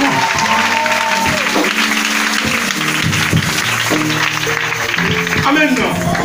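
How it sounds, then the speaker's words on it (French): A church congregation applauds loudly and steadily throughout, with voices calling and cheering over the dense clapping. "Et je veux que tu acclames encore puissamment."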